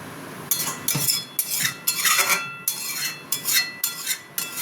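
A metal lid is set onto a cooking pot in a series of sharp clinks and rattles, about ten quick metallic taps close by, with no talking.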